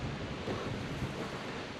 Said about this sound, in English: it's so windy, and trees are bending a little bit